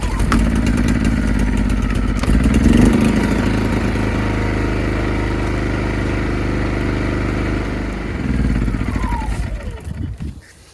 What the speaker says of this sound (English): Enough power that you need from the Powersmart inverter generator